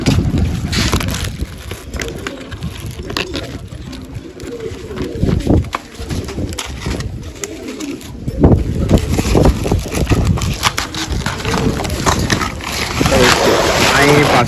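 Domestic pigeons in a rooftop loft coo and flutter close by, their sounds mixed with steady wind buffeting the microphone, with brief louder bursts around the middle.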